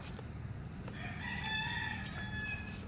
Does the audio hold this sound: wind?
no